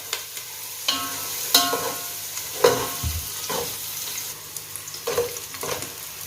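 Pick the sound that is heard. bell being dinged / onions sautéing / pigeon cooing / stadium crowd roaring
onions sautéing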